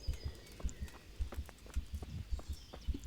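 A steady, throbbing heartbeat from the medieval video game Kingdom Come plays as regular low thumps, about two beats each second, close and fairly loud, with faint game ambience underneath and no talking.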